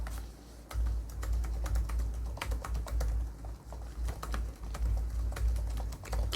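Keys tapped on an ASUS Vivobook 17 X1702ZA laptop keyboard with a fairly deep stroke, a close run of uneven clicks in quick bursts over a low background hum, no speech.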